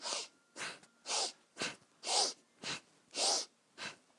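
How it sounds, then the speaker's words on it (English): Eight steady, rhythmic breaths during a spine-mobility breathing exercise, loud airy inhales and exhales alternating at an even pace, close up with no talking. "get that spine moving back and forth with the breath in and out so that it sounds like"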